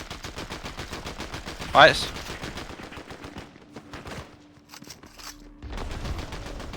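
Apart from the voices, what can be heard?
gunfire in the video game Fortnite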